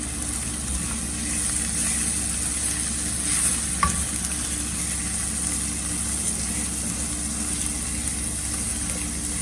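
Paneer masala with coriander powder and red chilli powder being stirred in a sizzling pan alongside capsicum: a steady, even hiss of frying throughout, with a brief scrape of the spoon near the middle.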